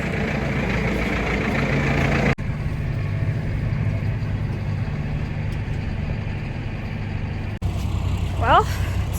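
A semi truck sits idling outdoors on a snowy day, a steady low engine rumble that continues throughout with a couple of abrupt cuts, and a voice talks over it.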